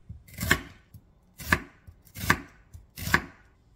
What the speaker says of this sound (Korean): 양파 1개는 채 썰어주세요.